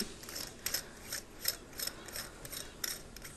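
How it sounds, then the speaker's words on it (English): Quiet ratcheting clicks repeat in an uneven series as a small threaded vaporizer battery cap is twisted down until it locks, close up with no talking. "You just screw it until it locks"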